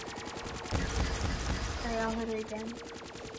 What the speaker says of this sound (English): I got the Shiva, which is like a starter gun.